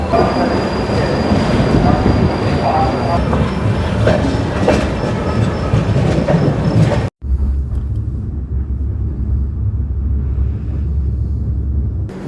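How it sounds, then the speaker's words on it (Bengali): The Howrah–Puri Superfast Express rumbles loudly along the tracks at night, heard from a 3E coach after leaving Kharagpur Junction, with a continuous roar and faint clatter, then abruptly drops to a quieter, lower rumble. "আমাদের ট্রেন ছেড়ে দিল খড়গপুর জাংশনের দু নম্বর প্ল্যাটফর্ম থেকে"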